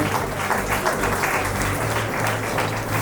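An award ceremony audience at a college claps for students, a continuous loud wash of applause with no break, close and filling the room.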